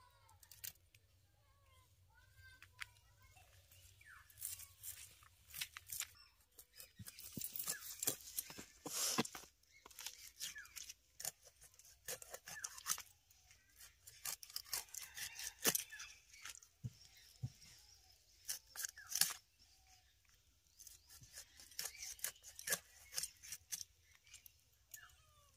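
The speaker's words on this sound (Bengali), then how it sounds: "তাই আমি এই মাছটা কেটে দিচ্ছি।" Rui fish being cut and scaled by hand, quiet irregular scraping and chopping strokes that come in bursts over a long stretch, with faint background murmurs.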